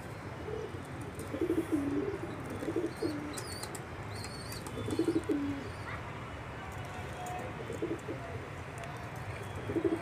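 Pet pigeons give soft, low coos in short repeated bouts, fairly faint, with occasional brief wing flutters and a few higher chirps in a quiet outdoor setting.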